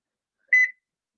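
A single short electronic kitchen timer beep, clear and isolated against silence, lasting about a fifth of a second, set while vegetable soup with dumplings simmers.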